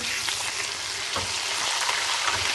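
Sliced onions and ginger-garlic paste frying in hot oil in a pan for chana pulao, a continuous close crackling sizzle with small irregular pops and a faint stir, no talking.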